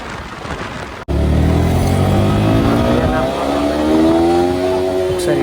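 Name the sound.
Yamaha R15 V4 155cc motorcycle engine revving at speed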